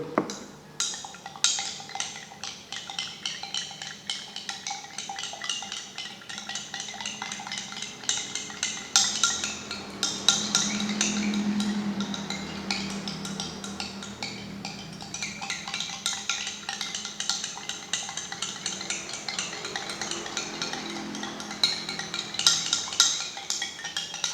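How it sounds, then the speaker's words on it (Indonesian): Distilled water, 25 ml, stirred in laboratory glassware: steady clinking and scraping of a rod against glass runs throughout, with light taps and rattles and no voices. "Kemudian saya aduk."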